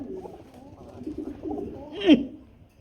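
A pair of Rajgolla pigeons, a male and a female, coo close by with low, throaty, rolling calls repeating through the moment, rising to one louder, sharper burst near the end.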